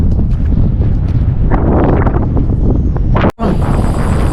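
Steady wind roars across a microphone while someone fishes alone outdoors, a broad continuous rush with gusty swells and a brief dropout near the end.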